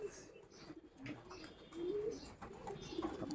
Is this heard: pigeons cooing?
yes